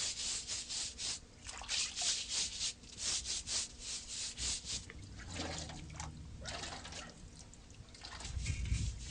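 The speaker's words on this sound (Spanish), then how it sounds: "limpiando con una escobilla hasta eliminar totalmente la suciedad" A brush scrubs a water intake grate in rhythmic back-and-forth strokes, a rasping, wet scratching, then slower irregular scrapes and a splash of water near the end.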